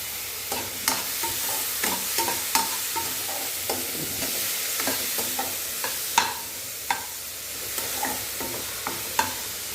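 Small tomatoes and green chilies sauté in a hot pan with a continuous sizzle, while a spatula stirs and scrapes in irregular clicks and taps close by.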